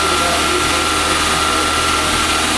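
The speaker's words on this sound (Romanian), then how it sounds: "Am pornit motorul" A Dacia Logan engine idles at a steady, even pitch with a constant whine on top, loud and unbroken, while the cooling system is being bled after cleaning the cabin heater radiator.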